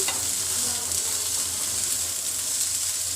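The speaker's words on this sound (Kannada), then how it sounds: "ಇವಾಗ ಚೆನ್ನಾಗಿ ಇದನ್ನು ಫ್ರೈ ಮಾಡ್ಕೊಬೇಕು" Corn fries in homemade butter in a pan, producing a continuous close sizzle with a spoon stirring and scraping through it.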